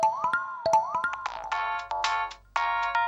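A mobile phone ringtone for an incoming call plays loudly and close: a bright, bouncy electronic melody of repeated tonal bursts with short gaps, and no talking.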